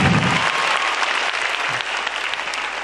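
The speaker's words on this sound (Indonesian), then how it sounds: "Beri tepuk tangan yang meriah untuk Gautama" A studio audience at a stand-up comedy grand final breaks into loud, sustained applause that fills the space evenly for a few seconds.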